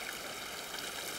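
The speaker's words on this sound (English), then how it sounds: "Oh, look, this is where the water's coming from. It looks like a new stream." Newly formed rainwater stream rushing through a town, a steady, close, hissing wash of flowing water with no pause.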